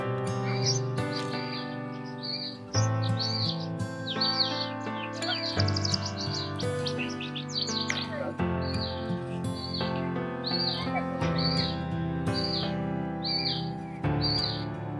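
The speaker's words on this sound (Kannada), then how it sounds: "so bird chipping also" Bright, high bird chirps and trills repeat in quick bursts over a steady sustained tone, clear and fairly close with almost no talking, in the Devarayana Durga hills near Bangalore.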